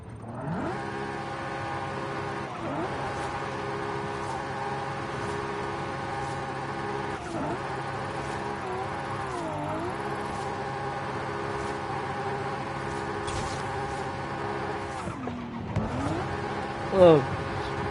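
A race inline-6 car engine in a racing video game, tuned to about 1,200 horsepower, hums and revs in sustained tones with repeated gear-shift dips, rising and falling under a faint voice, with a short thump near the end.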